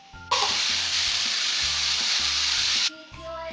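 Onions hit hot avocado oil in a pan for a Kerala mutton roast, bursting into a loud, steady sizzle that holds for a few seconds before cutting off, with faint background music underneath.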